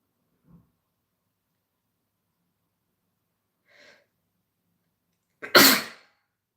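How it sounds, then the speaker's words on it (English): A faint sniff, a quiet intake of breath, then one loud, explosive sneeze close by. "I feel like I'm gonna sneeze"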